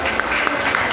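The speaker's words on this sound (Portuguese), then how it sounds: "Vamos aplaudir a Jesus com a salva de palmas" A church congregation at a Brazilian Pentecostal friendship service breaks into a round of applause, a dense, loud patter of many hands with a few sharper claps standing out across one second.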